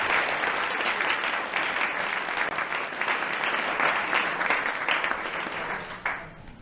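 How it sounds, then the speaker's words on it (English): Sustained applause from a panel discussion audience, dense and steady for several seconds before tapering off at the end. "Let's give a huge round of applause for our panelists already."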